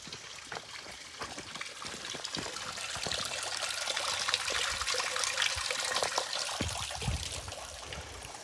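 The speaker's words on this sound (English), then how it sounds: "You can hear that water's actually running down it." Water trickles and gurgles steadily down the inlet of a large drainage drop pipe in a wet farm field, a soft continuous rushing with faint splashes and bumps.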